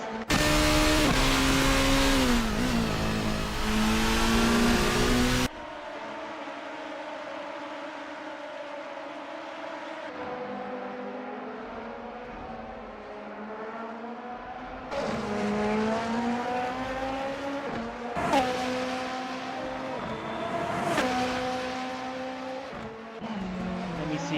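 Race cars from a racing video game at Fuji Speedway roar past in a loud engine drone with rising and falling pitch, shifting between cars and camera views, with no talk over them.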